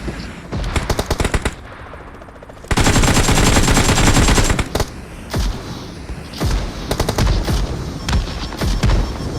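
Automatic gunfire in a multiplayer shooter game rattles in rapid bursts, loud and close, with one long sustained volley in the middle and scattered shorter strings of shots and thuds around it.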